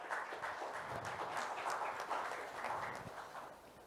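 Audience at a procurement panel session clapping for the panel speakers, a steady patter of many hands filling the room at moderate distance, holding fairly even before slowly tapering off.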